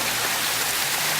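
A waterfall produces a steady, dense rushing hiss, loud and close, with no gaps and nothing else audible for about a second.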